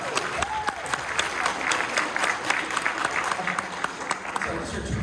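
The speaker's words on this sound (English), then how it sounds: "You can clap for them, that's fine." An audience at a PAX East 2025 VTubing convention panel applauds, a steady ripple of clapping from a crowd in a hall lasting several seconds, with some voices mixed in.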